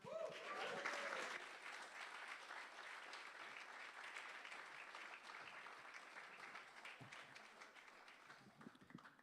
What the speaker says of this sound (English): So put a little extra love and energy into your applause.